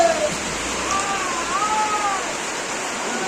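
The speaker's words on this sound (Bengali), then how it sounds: "এত জোরে বৃষ্টি হচ্ছে" A hard, sustained downpour hisses as a broad, constant wash, close and loud, with a faint whistle-like tone drifting through partway.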